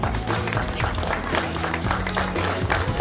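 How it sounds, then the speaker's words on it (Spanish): Loud, dense crowd applause at the Las Flores racecourse in Santa Fe, honoring a racehorse's owner family, sustained and close with a low musical hum running beneath it. "Fuerte el aplauso, che, fuerte el aplauso"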